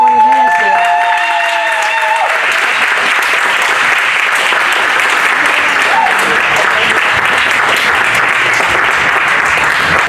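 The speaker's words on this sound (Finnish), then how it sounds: "Antakaa nyt aplodit" Loud, dense applause from a crowd at a Finnish harness racing event, steady and sustained throughout, with a voice heard briefly at the start before the clapping takes over.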